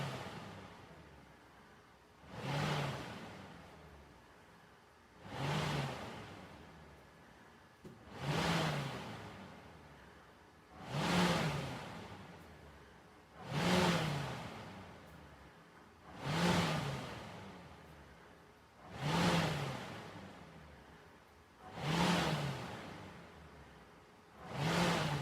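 A Sunny Health and Fitness Premium Carbon Air Magnetic rowing machine is rowed at an even pace, with about nine whooshing strokes rising and fading roughly every three seconds over a quiet background.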